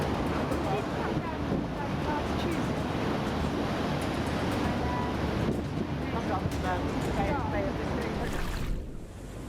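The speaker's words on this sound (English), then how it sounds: "A house was submerged as giant waves repeatedly crashed against the shore" Giant storm waves crash repeatedly against the shore on a coastline near Penzance, with a heavy continuous roar of surf and wind buffeting the microphone, the rumble easing briefly near the end.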